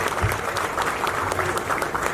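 An audience at the Mumbai Police Icon Achiever Award ceremony claps steadily, a dense, even wash of many hands close by, with faint voices mixed in.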